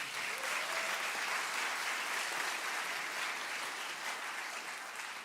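Audience applause after a musical performance at a university cultural evening: a dense, continuous wash of many hands clapping, moderately distant, holding steady throughout and easing slightly at the end, with no speech over it.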